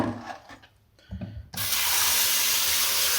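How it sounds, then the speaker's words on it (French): After a few soft clunks, a kitchen tap opens at about halfway and fills a container for soaking cut potatoes, with a loud, steady rushing stream of water that runs close until the end. "on va remplir ce récipient d'eau"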